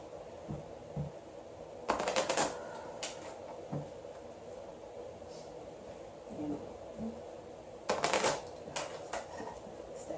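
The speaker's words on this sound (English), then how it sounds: "does not want to be shuffled, so we'll have to do it the other way." Two short bursts of cards being shuffled, riffling crisply against a quiet background hum, with small clicks and handling noises between them.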